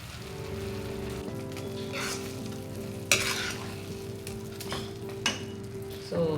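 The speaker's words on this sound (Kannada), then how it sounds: "ಈಗ ತುಪ್ಪ ಹಾಕ್ತೀನಿ ನೋಡಿ" Ghee poured into a pan of cooking ash gourd halwa (Kashi halwa) with nutmeg, clove and cardamom, giving a steady close sizzle and stir-fry crackle with a few sharper scraping spatula clicks, no talk.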